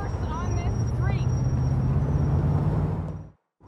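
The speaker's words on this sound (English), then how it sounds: "Traffic is getting worse and worse on this street." A busy street in GTA 4 rumbles with passing car and bus engines, muffled voices faintly underneath, before the sound cuts out abruptly into silence.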